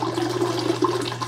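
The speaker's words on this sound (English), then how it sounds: "I'm going to pour the whole bottle of 14 ounces in there." A 14-ounce bottle of descaling solution glugs and splashes as it is poured into the water reservoir of a Keurig K-Cafe Smart coffee maker, a short close burst of liquid with no talk.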